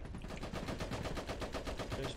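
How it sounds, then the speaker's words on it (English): Rapid, continuous machine gun fire in the strategy game Iron Harvest rattles loudly at a steady fast rhythm for a couple of seconds. "there's just so much machine gun"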